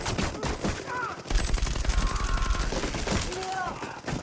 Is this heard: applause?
no